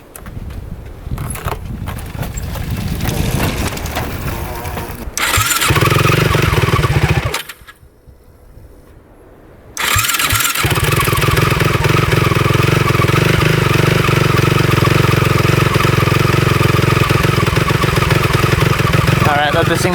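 A Cannondale 440 race quad engine starts after some handling and clatter, briefly cuts out, then catches again and settles into a loud, steady idle as it warms up close by.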